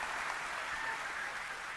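Faint, steady clapping from an audience at CitizenCon, a dense even patter held at a distance for under two seconds with no voices over it.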